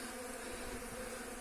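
Honeybees swarm and rob an empty hive on a spring apiary, giving a steady, dense buzzing drone from many insects close by, continuous and without speech.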